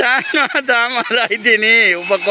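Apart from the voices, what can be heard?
No everyday noise stands out behind the speech.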